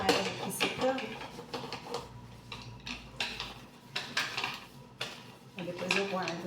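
A cooking pot gets scrubbed clean by hand, with scraping, scouring strokes and light clanks of metal cookware in an irregular rhythm, quiet and close, with a voice talking between the strokes.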